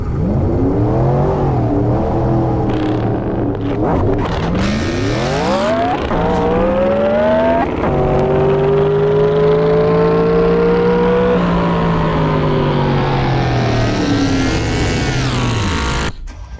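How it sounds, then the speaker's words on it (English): A turbocharged car engine revs hard in first gear, with several rising and falling pitch sweeps, up-shifts and sustained high-rpm pulls, loud and close, with no talk over it; the car is built for about 600 horsepower. "Now listen for his rev."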